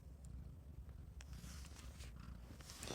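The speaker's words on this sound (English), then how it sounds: "Can you hear her purr?" Cat purring up close in a quiet room, a soft, steady low rumble lasting throughout, with faint rustles and small clicks over it.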